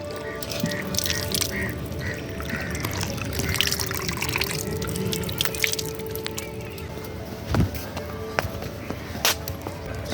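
Water flows from a traditional stone spout at Swayambhu in Kathmandu, a continuous splashing trickle with scattered drips, heard outdoors among faint crowd ambience.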